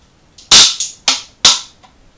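A toy cap gun fires at a target during a magic stage show: three sharp, loud cracks about half a second apart, with a smaller snap between the first two and faint quiet around them.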